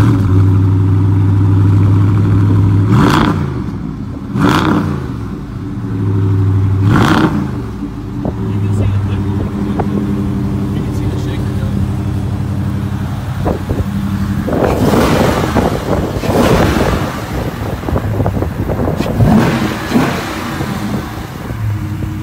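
An automatic car is started and revved in a dealership setting. The engine gives several loud throttle blips and then a sustained rough rumble with a few more revs. It is heard close up with no one talking over it.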